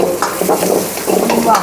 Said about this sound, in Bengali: হাই হিটে ফ্রাই হয়ে গেল